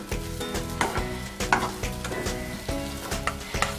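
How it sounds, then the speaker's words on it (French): Choux-style dough sizzles and scrapes as it is pressed against the sides and bottom of a hot saucepan to dry it out, with repeated pressing strokes and short bursts of frying hiss, close and steady throughout. "vous allez venir plaquer votre pâte contre les parois, la plaquer sur le bas de votre casserole"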